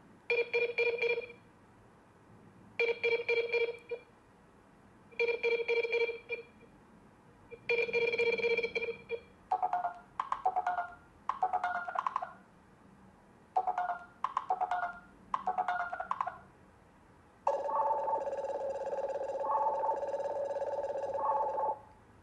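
A Nothing Phone 1 ringtone plays alone: four evenly spaced bursts of bright chirping tones, then quicker stuttering patterns, ending in a sustained warbling melodic run.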